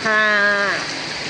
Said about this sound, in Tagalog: Ayan na po at bumuhos na po ang malakas na ulan.